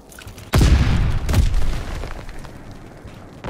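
Heavy artillery barrage explosions in Call of Duty: WWII, two loud booming blasts close together near the start, each rolling into a long rumbling decay.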